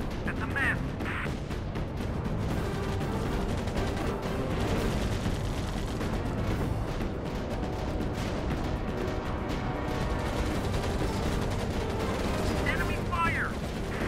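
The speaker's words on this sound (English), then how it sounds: "Enemy fire." Enemy gunfire in Air Conflicts: Pacific Carriers, the Pacific carrier air combat game, a dense, steady rattle of shots and explosions running throughout, with a voice occasionally talking over it.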